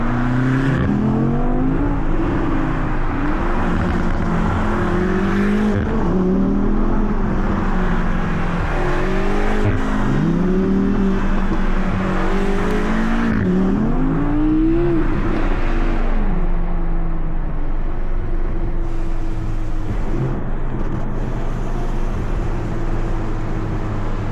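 An Audi R8 V10's deep, rumbling exhaust drones steadily, its pitch rising and falling through gear changes, loud and close, without talking.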